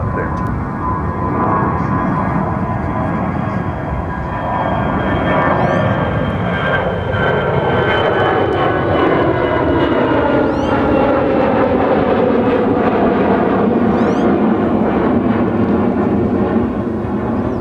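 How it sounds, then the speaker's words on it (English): An American Airlines jet departs runway 36 left at Dallas-Fort Worth airport, a loud sustained engine roar that rises and sweeps in pitch as it climbs away, steady across the whole stretch with no talk over it. "We have a departure on 36 left. Oh, departure American 2221, sir."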